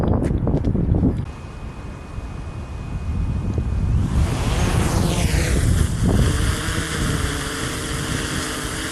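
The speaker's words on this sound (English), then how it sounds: "she's pretty windy" Steady wind buffeting a microphone outdoors, a low continuous rumble with gusts, and a faint drone of a DJI Mavic 3 Pro rising partway through.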